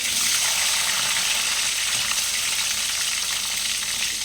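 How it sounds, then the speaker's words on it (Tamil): Mustard seeds, curry leaves and garlic fry in hot oil for a Tamil dried-fish kuzhambu, giving a loud, dense, unbroken hiss of sizzling with no pauses. "கடுகு போட்டதுக்கப்புறம் கருவேப்பிலை, பூண்டு போட்டிருக்கேன். அது நல்லா வதங்கட்டும்."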